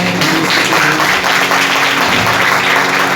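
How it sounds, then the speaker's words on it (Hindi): Loud, dense applause from an audience at a Christian worship program, steady and continuous throughout with no talk over it. "जोरदार तालियां बजाएं"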